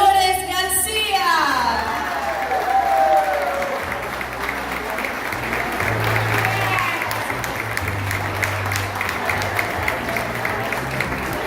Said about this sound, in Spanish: con un fuerte aplauso también homenajeamos a concejal Dolores García